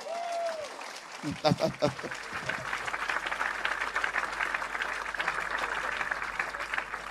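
A church congregation applauds and cheers together during a French sermon, a sustained, moderately loud wash of clapping with a few voices rising briefly at the start.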